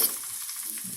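Chopped green pepper and onion sauté for stir-fry chicken in a pan at home, giving a steady soft sizzle with light stirring scrapes, close and fairly quiet with no one speaking.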